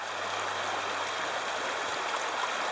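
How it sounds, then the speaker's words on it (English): Olequa Creek rushes past at its confluence with the South Fork, a steady, soft wash of flowing stream water heard alone and unbroken, moderately close. "at the confluence of Olequa Creek and the South Fork of Olequa Creek"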